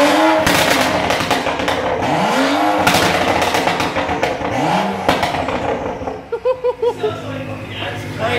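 A loud modified BMW exhaust on the move, the engine revving up and down in swelling sweeps before the throttle closes and the exhaust spits a rapid burst of crackling overrun pops close by.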